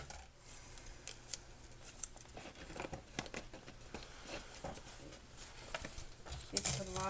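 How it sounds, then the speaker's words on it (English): Tape being torn and pressed onto a plague doctor mask frame, a quiet patchwork of crinkling, ripping and tapping at close range, with faint talk in the background. "Now we're going to put some tape in the middle."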